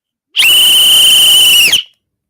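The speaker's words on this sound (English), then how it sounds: "y'all don't know why the Bahamians blow the whistles." A single loud, shrill whistle blast, sustained steadily for over a second before cutting off, with no voices around it.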